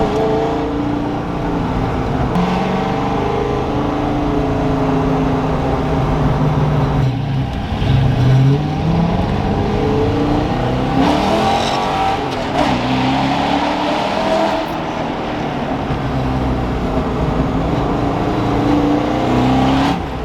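A Ford Foxbody with a new custom exhaust drives past loudly, its engine roaring and revving up and down through gear changes for a long stretch, with no voices.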